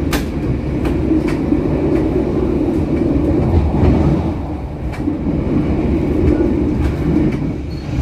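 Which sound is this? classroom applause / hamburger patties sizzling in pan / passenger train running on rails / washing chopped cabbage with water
passenger train running on rails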